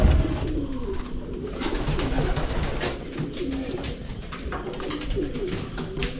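Pigeons cooing close by in soft, throaty rolling calls, repeated over a busy, steady background of rustling and ambient noise; no speech.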